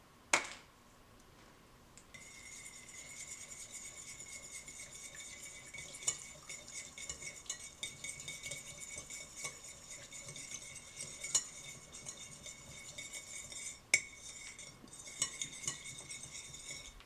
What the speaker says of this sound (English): And you're going to want to mix.